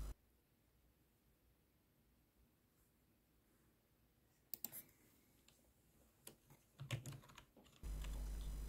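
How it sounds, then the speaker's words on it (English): Typing on a computer keyboard during a Steam Deck login: bursts of light clicking keystrokes in the second half, irregular and close, after a quiet stretch, ending with a steady hum. "Just quickly or not quickly typing in my details."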